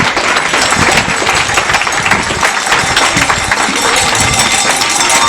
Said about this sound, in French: je demande à la scène d'applaudir nos sœurs